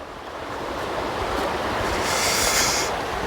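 A stream on a hiking trail rushes in a broad, steady wash of flowing water, loud and close, growing slightly stronger toward the end with no voices.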